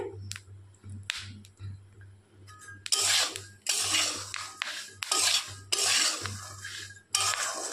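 Peanuts crackle and rasp as they are stirred in hot salt, in repeated scraping bursts over a low steady hum.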